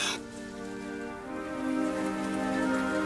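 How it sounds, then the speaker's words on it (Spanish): Steady rain falls with a soft, even patter, fairly quiet, over a faint sustained musical tone in the background. "Llovía y llovía como si nunca fuera a parar."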